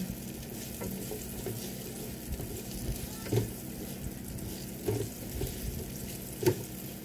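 Toppings for a Filipino pork steak sautéing in a pan, a soft, steady sizzle with occasional clinks and scrapes of stirring, fairly quiet and close.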